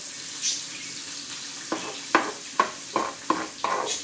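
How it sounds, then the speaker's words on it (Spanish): Garlic, onion and rice sauté in oil for a Honduran coconut dish: a soft frying sizzle broken by a series of regular, sharp spoon-scraping strokes against the pan. "Lo vamos a sofreír todo, todo con el arroz"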